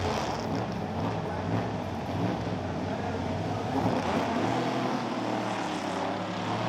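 1960s touring cars, including a 7-litre Ford Galaxie and a Lotus Cortina, race away at the Goodwood Revival as a dense, continuous engine roar, loud and sustained, with a crowd-like wash and no clear separation between cars.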